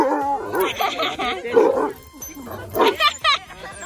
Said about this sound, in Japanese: 前はね、こんなワンワン言ってくれなかった。